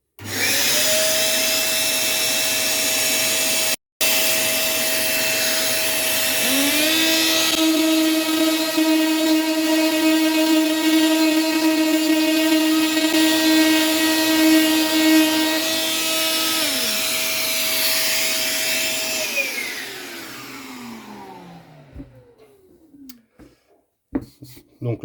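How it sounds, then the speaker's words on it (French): A Parkside 20V cordless multifunction sander whirs up with a vacuum drawing steadily beside it, a sustained whining drone for about twenty seconds before spinning down to silence. "Je mets l'aspirateur en route et on y va."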